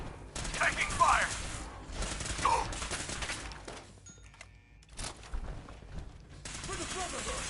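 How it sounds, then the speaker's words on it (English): Bursts of rapid gunfire and explosive blasts in the video game Fallout 4, during a Brotherhood of Steel battle, loud and dense, with short quieter gaps and mechanical clanks between volleys. "Taking fire!"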